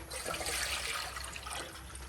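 Water pours steadily into a pot set on a gas stove, a continuous close splashing rush with no talk.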